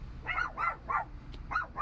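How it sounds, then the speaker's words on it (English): A dog barks outside in a quick run of four or five sharp, fairly loud barks with short gaps between them. "So there is a dog outside and my dogs are freaking out."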